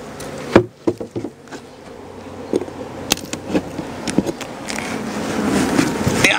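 Honey bees buzz around an opened hive with sparse top boxes, a thin outdoor drone with a few louder close passes and scattered knocks of hive equipment.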